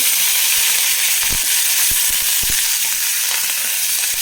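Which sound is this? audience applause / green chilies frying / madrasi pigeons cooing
green chilies frying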